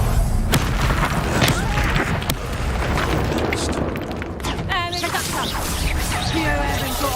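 Confringo blasting spells explode in a video game, producing heavy, dense booming and rumbling blasts that roll on almost without pause, with a voice briefly heard among them.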